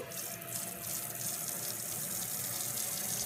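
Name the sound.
running warm water while bathing a Yorkie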